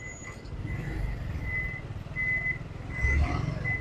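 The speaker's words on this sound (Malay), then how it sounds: "Oh, lori nak keluar." A lorry reverses out of a shop loading bay, its beeper sounding a steady series of evenly spaced high tones over idling engine rumble and traffic noise.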